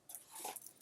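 A dog barks and whimpers indoors in a home, a short burst of mid-loud sounds close by with no talking.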